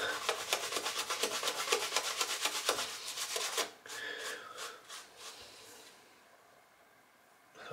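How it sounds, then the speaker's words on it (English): Oakmoss and sandalwood shaving soap lather is worked onto a head, giving a rapid, rhythmic wet rubbing and scrubbing close up that slows and fades into softer, sparser strokes. "I'm getting a good lather here"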